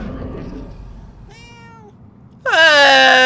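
A cat meows in the video game Murdered: Soul Suspect, first a short soft mew, then a louder, drawn-out meow close up after a quiet pause.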